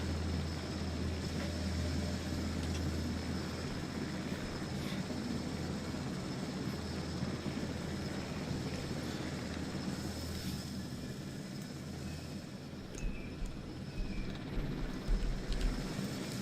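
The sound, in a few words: helicopter lifting a dinosaur in video game Jurassic World Evolution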